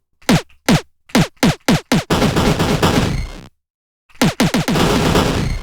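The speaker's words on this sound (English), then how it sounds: "now I've got explosions popping off all over the place" Game explosions from a Unity project sound off in a rapid run of sharp bangs, then a sustained roaring blast that cuts to silence before another burst of quick bangs and rumble.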